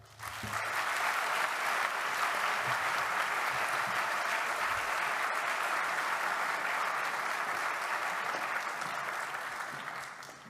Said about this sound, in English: giving a warm round of applause to David Gregory